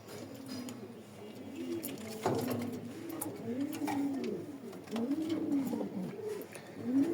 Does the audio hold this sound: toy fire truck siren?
no